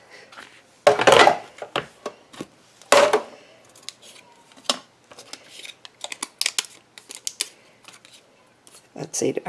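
Scissors cutting out paper wings for a craft, a string of quick snipping clicks and paper rustles spread across the clip, with a couple of louder bursts near the start.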